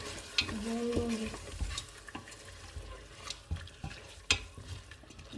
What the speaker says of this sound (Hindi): अब इसको मैं भून लूँगी।